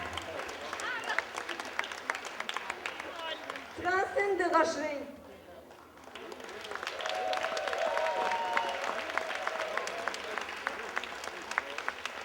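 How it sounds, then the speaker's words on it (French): Continuous applause from an audience at a 2005 culture festival fills the room, with a voice announcing in French over it and a brief lull before the clapping swells again. "Applaudissez-la."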